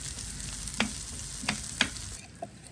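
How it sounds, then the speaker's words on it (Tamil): Garlic and onion sautéing in a pan while a chutney is prepared: a constant moderate sizzle with a few sharp clicks of a utensil against the pan, close by, ending in a quieter moment. "உள்ளி வெங்காயம் வதக்கப்பட்டால் காணும். கொஞ்சம் ஒரு 5 நிமிஷம் பற்றிங்கன்னா வதக்கப்பட்டுரும்."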